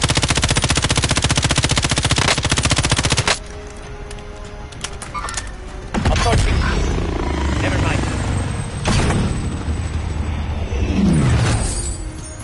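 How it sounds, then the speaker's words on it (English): An enemy attack helicopter in a video game opens fire in long, loud, rapid machine-gun bursts over rotor noise, followed by scattered shots, impacts and radio-style voices. "Be advised, enemy attack chopper incoming."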